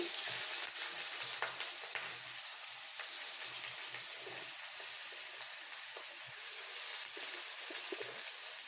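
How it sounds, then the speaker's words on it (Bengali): Steady, loud sizzling of chicken frying in hot oil, a continuous crackling hiss with occasional stirring sounds. "মাংসগুলো তেলের ভিতর ছেড়ে দিলাম"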